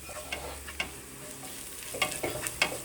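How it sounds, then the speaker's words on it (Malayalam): Crushed shallots, garlic, curry leaves and crushed chili fry in oil for a Kerala dried-prawn thoran, a soft steady sizzle broken by a few sharp scraping stirs of a spatula in the pan. "ചതച്ച ചുവന്നുള്ളിയും വെളുത്തുള്ളിയും കറിവേപ്പിലയും കൂടെ നന്നായിട്ടൊന്ന് മൂപ്പിക്കണം."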